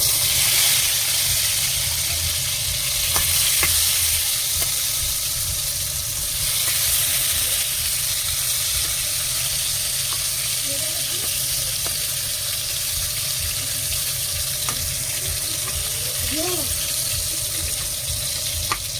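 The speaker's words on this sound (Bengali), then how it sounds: "তেলটা গরম হয়ে গেলে এবার পটল তুলে দেবো, পটল ভাজা হবে।" Steady sizzling of pointed gourd frying in hot oil fills the whole stretch, a constant hiss with occasional faint clinks and no voices.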